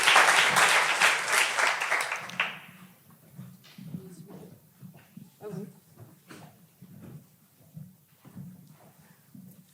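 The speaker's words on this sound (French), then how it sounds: "on peut vous applaudir pour cette belle initiative." Audience applause at a public ecology debate bursts loudly for about two seconds, then breaks into scattered, fading individual claps and light room noise.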